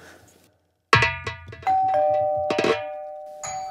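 A front-door doorbell rings with a bright two-tone ding-dong chime, the tones sustaining and ringing out clearly and loudly, followed by a second shorter chime near the end, with no talking over it.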